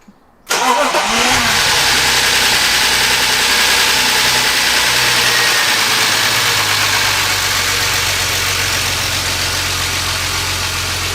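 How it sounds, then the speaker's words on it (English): A BMW E36 engine fires up after a brief click and runs loud and close, settling into a steady, even idle that holds with a constant low drone after an oil flush. "already that engine sounds a lot healthier"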